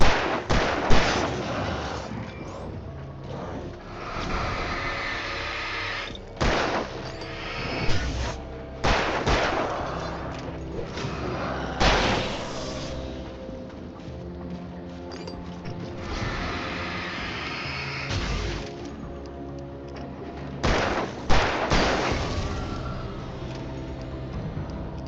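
Gunfire in the horror action game Alan Wake Remastered: repeated sharp shots at irregular intervals, some in quick bursts, over a dense, rumbling game soundtrack.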